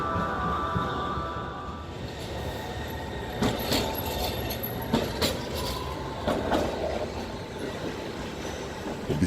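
A Milan tram running on its rails, rolling steadily nearby with clicking wheel joints and squealing wheels, several sharper clacks in the second half, and no voices.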